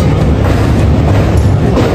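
A train crossing a rail bridge over the Yamuna River near Agra, heard from on board as a loud, steady roar and rumble of wheels and carriages with no talk.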